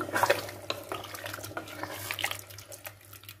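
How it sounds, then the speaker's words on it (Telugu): Water poured into a pressure cooker holding chicken pieces, a soft continuous splashing trickle with small irregular splashes, close and fairly quiet. "నేనైతే ఏం కలపలే అండి కలపకుండానే వాటర్ వేసేస్తున్నా"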